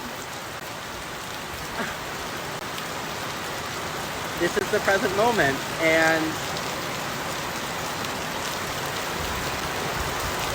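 Steady rain falling outside a hostel in India, a constant broadband hiss that runs through the whole stretch, while a voice talks briefly near the middle.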